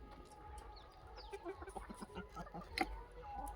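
Free-range desi poultry, Sonali hens, clucking in a farmyard: scattered short clucks and calls at moderate distance over a steady low background rumble, with no talking.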